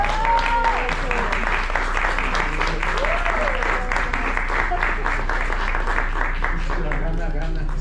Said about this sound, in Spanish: Por favor, Jacobo, un aplauso por favor para que se animen.